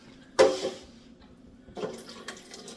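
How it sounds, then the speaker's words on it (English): Liquid from a can of water-packed tuna poured off into a bowl in a home kitchen: a short splashing pour near the start, then a second softer trickle a moment later, close and fairly quiet. "I'm going to drain that into a bowl."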